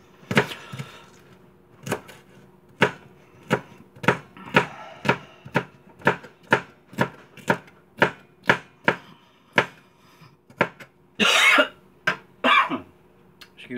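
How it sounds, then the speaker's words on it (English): A knife coarsely chops vegetables on a board in a steady run of about twenty sharp, evenly spaced thwacks, fairly close and loud, ending in a few irregular heavier strokes with a brief rustle. "chop it as fine as you want. I'll kind of do a coarse chop on this."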